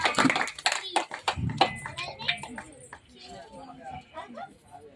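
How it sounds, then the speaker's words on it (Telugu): Audience clapping at a Ganesh festival laddu celebration: bursts of sharp hand claps in the first seconds, mixed with nearby talking and chatter, fading as voices continue. "క్లాప్స్ కొట్టండి."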